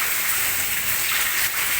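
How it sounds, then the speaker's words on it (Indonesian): Heavy afternoon rain with strong wind in Bogor, Indonesia, a dense bright roaring hiss of downpour, loud and steady, with slight gusting swells and no speech. "Sore ini Bogor diguyur hujan deras, petir, angin kencang."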